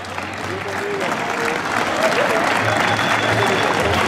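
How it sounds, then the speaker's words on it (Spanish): A crowd at an outdoor floral pilgrimage (romería) in Fontanales applauds, a broad, loud wash of clapping that keeps building over a few seconds, with murmuring voices and a low hum underneath. "Un aplauso generoso."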